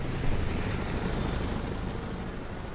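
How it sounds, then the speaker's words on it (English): Helicopter in Resident Evil 6 flying, a loud, dense, steady rotor-and-engine roar filling the whole stretch with no pauses, close and alone without talk. "we were flying off in a chopper"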